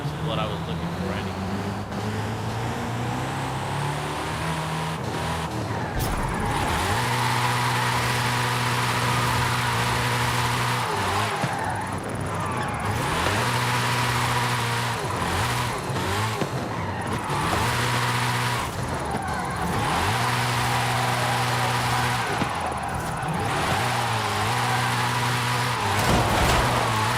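A Hennessey Venom F5 engine surges and revs hard through acceleration in Forza Horizon 5, with steady stepped harmonic pitch climbs, tire skids and near, loud continuous engine roar over the full stretch.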